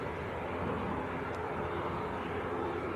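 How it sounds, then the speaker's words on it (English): A Pilatus PC-12 turboprop runs at Manchester Airport, a steady broad engine roar heard from a distance without talking. "you've got a little PC-12 over there as well"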